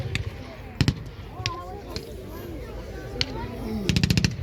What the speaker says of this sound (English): So the brick on the left is fixing the enemy in location with machine gun fire